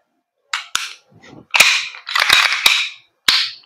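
A KJWORKS KP-05 airsoft gas blowback pistol fires several sharp, loud cracks at irregular intervals, each shot carrying a short metallic slide clack, with brief handling noises between them.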